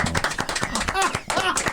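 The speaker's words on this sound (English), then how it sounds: "I love the clapping." Short burst of studio applause, a few quick claps tapping out near and fairly loud, with people talking over it on a talk radio show.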